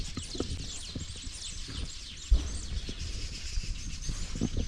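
Birds call around fishponds outdoors, a continuous chorus of high chirps and twitters at moderate distance over low rumbling background noise and a single thump.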